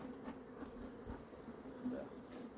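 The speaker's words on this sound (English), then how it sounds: "I'm seeing the bees coming out to greet me." Honey bees buzz softly and continuously around an opened hive during a mid-October colony inspection, a faint, steady drone close by.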